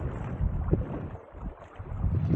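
Strong wind buffets the microphone at the shore of Haweswater, a lake where someone is fly fishing for brown trout. The rumbling gusts are loud and continuous, easing briefly midway before building again.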